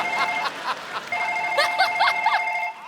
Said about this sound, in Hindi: और हमारा फोन वाइब्रेशन पे है।